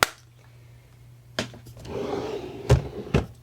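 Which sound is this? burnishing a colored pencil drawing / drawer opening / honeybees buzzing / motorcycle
drawer opening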